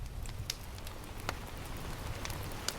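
Rain pattering against window glass, soft and steady, with scattered sharper drop ticks over a faint continuous hiss, quiet and close, with no voices.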